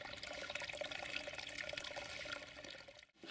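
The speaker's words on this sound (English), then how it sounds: "use a plastic bottle and they're easier to fill up" A plastic bottle fills with water at a spring during a wild-camping hike near Cadover, a steady, close rushing and gurgling pour that runs unbroken for about three seconds before cutting off.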